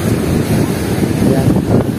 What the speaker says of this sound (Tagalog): lakas lang ng alon